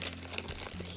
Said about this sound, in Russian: Распечатываем пакетик.